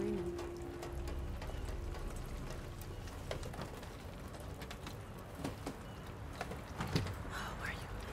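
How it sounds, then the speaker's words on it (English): Steady rain falls outdoors in the video game Detroit: Become Human, a constant wash of drops at moderate level with a few brief closer taps and a faint bird coo near the start. "It's still raining."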